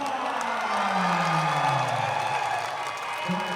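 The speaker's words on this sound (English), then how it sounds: "there you can hear the crowd roar for Brian Kong" A Muay Thai event crowd roars for fighter Brian Kong, a steady, loud wall of cheering, whooping and clapping that holds throughout, with a faint voice underneath.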